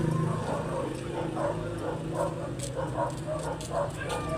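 Dog barks and yips sound repeatedly at moderate distance over steady outdoor background noise and faint voices.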